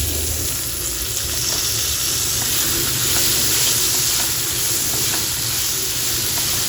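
Chopped potatoes frying with curry leaves in a pan, giving a steady, loud sizzle and hiss with faint stirring underneath; no talking.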